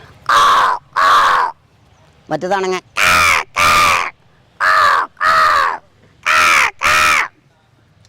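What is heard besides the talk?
crows cawing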